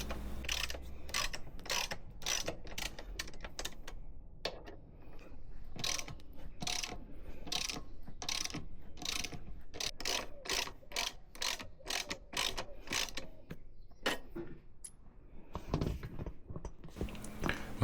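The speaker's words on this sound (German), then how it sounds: "Zur Demontage muss man erstmal 4 Schrauben am Sozusitz lösen." Screws being loosened on the pillion seat of a Royal Enfield motorcycle, a rapid series of sharp ratcheting clicks in fast bursts, close and steady, with short pauses between runs.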